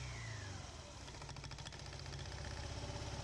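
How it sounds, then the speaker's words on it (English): Honda Elite 110 scooter engine running steadily with its drive belt and variator exposed, a continuous close mechanical hum with faint knocking texture and slight rising pitch, no talking. "As the engine turns faster, the belt rides higher on the front pulley and lower on the back pulley,"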